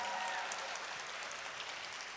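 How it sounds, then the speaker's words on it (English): Audience at a school opening ceremony applauds the faculty, a steady, soft, distant wash of clapping with no break. "Let's give them a big round of applause."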